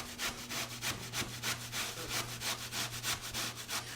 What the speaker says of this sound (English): we've grated up all of our sweet potatoes